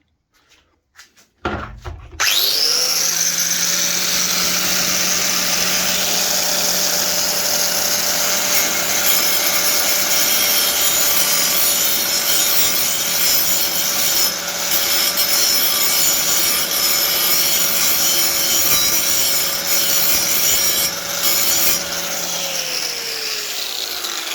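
A Honda Pro roller mower blade being sharpened by hand, a steady abrasive grinding rasp with a constant motor-like tone running for about twenty seconds, loud and close with no talking.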